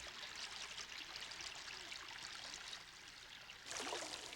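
Spring water trickling and babbling in an animated fantasy film, a soft continuous burble with a slightly louder gush near the end.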